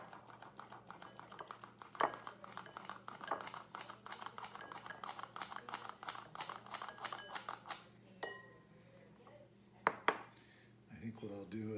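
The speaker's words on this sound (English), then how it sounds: "We're going to start sifting this together." Flour and salt sifted together in a kitchen, a rapid, steady rattling and scraping of a metal sifter going on for several seconds, then a few sharper knocks and a brief pause; a voice speaks over it.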